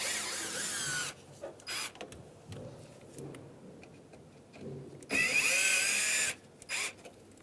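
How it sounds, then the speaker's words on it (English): A power driver backs Phillips screws out of the hood-to-cowl brackets on a 1992–1996 Ford F-150, short whirring bursts separated by quiet gaps, with louder, longer runs near the end, close and clear. "start to remove the rest of our Phillips screws all the way across"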